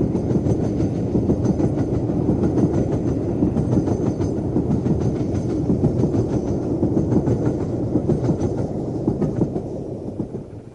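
LMS Jubilee steam locomotive Bahamas, fitted with a large double exhaust chimney, hauling a train on the Settle and Carlisle line: a loud, continuous rumble of wheels and carriages with a rapid rhythmic beat running throughout.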